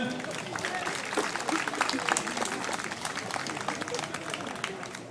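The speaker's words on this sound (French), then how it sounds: "Donc on applaudit bien fort," A crowd at a French event honouring a female pilot applauds, sustained and fairly full clapping from many hands with a busy, continuous patter and faint voices mixed in.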